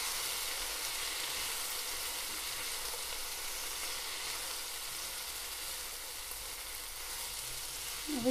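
Vegetables sizzle and fry steadily in a pan over low heat while being stirred, a continuous close hiss with a small clatter of mixing at the very end.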